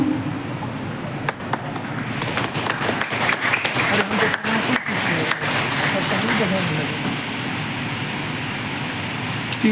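Audience clapping at a ceremony honouring a neurology associate professor, a steady wash of applause lasting the whole stretch with scattered sharper claps and faint voices underneath.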